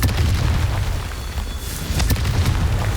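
Confringo fire spell blasts in the game Hogwarts Legacy, a loud continuous rumbling boom with heavy low-end roar and a couple of sharper bursts, no speech over it.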